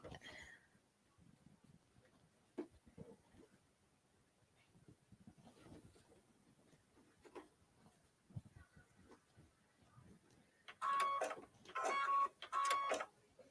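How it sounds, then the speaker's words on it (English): A sewing machine stitches fabric pieces at a quarter-inch seam for a table topper, with three short bursts of whirring stitching near the end after quiet handling noises. "And I'm sewing this at a 1/4 inch seam allowance."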